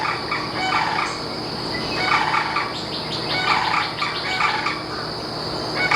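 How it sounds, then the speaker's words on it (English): Birds call loudly outdoors in a Central Florida village, with repeated bursts of gobbling, turkey-like calls rising every second or so over constant chirping and insect buzz, fairly close and with no talk. "birds are awful loud out there"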